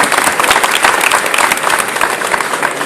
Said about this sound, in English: Round of applause for Sunny.